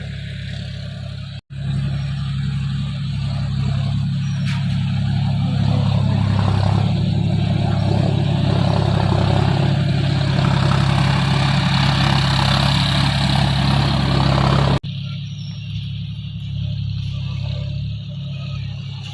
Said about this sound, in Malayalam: ഇവിടെ തൊട്ട് മുകളിൽ ട്രാക്ടർ വന്നിട്ട് നിലമൊക്കെ ഒന്ന് ശരിയാക്കുന്നുണ്ട് കേട്ടോ